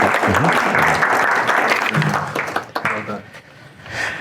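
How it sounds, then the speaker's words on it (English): A conference audience gives a round of applause to welcome speaker Marshall Smith at a healthcare licensing presentation; the clapping runs continuously while someone talks over it, then fades near the end. "Let's give him a round of applause too."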